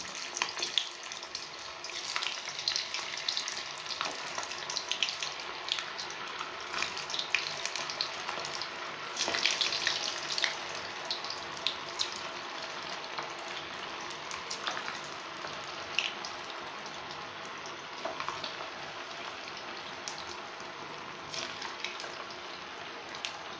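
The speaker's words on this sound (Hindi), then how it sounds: "तेल हमारा गर्म हो चुका है, अब इनको डालेंगे।" Potato balls deep-fry in hot oil, giving a dense, continuous bubbling sizzle with crackling pops that swell briefly near the middle and hold steady and close. No talking.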